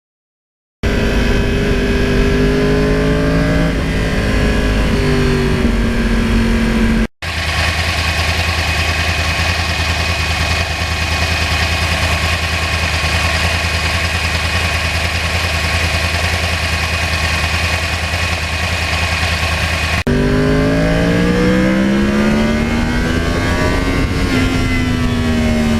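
A 2009 Yamaha R1 Crossplane motorcycle engine, a steady loud mechanical drone that rises and falls in pitch through revs, heard for about twenty-five seconds with no voices.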